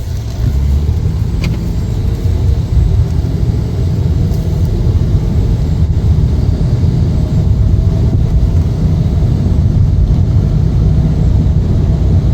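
A 2022 Ford Maverick XL Crew Cab pickup on a test drive, heard from inside as a steady loud low engine and road rumble throughout, with no talking.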